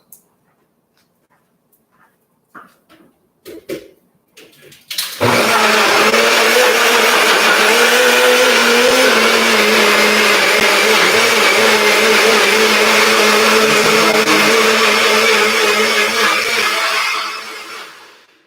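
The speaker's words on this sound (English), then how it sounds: "So I'm going to go over to my blender here." A few clinks and taps, then a blender pureeing beets kicks on loud and whirs steadily for over ten seconds before winding down at the end.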